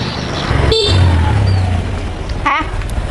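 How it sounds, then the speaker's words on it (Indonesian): A motorcycle horn gives a short toot and then a second quick honk a moment later, loud and close over a steady hum of road traffic. "Klakson sepeda motor aku kurang kenceng"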